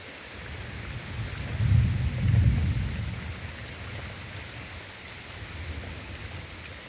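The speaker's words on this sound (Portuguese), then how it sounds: "Rapaz. Chuva forte," Heavy rain pours steadily outdoors, and a low rumble of thunder swells and fades near the start before the downpour carries on as an even wash.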